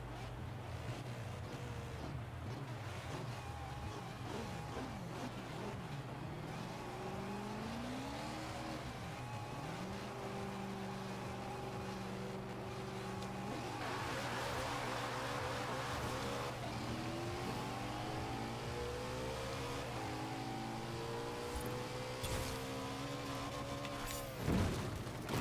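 Racing car engine from the Forza driving game, revving and shifting through gears with rising and falling whine over steady road roar, loud and continuous, with no talk.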